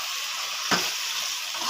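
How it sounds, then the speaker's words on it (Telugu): Curry frying in a pan gives a steady, close sizzle with a brief scrape or stir partway through, with no talk over it. "చూడండి మంచిగా ఎలా ఫ్రై అయిందో."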